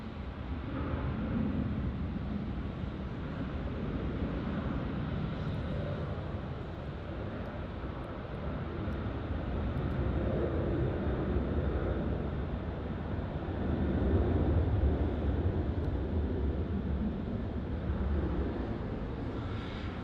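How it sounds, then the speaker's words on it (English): Qantas Boeing 737-800 departing runway 34 at Melbourne Airport, a continuous broad jet roar heard from a distance that swells gently and holds steady for about twenty seconds, with no talking. "next up we have a Qantas 737-800 departure on runway 34"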